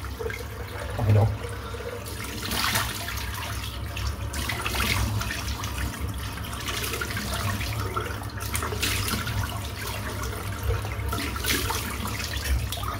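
Tap water runs steadily into a bathroom sink during a wet shave, a continuous close splashing rush with a brief louder gush near the start.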